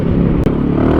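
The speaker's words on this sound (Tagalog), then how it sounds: "So yan yung tunog niya kapag naka-acra siya." An Easyride 150fi motorcycle fitted with an Akrapovic exhaust pipe gives a loud, close, steady engine rumble with one very brief dip in the middle, heard alone without voices.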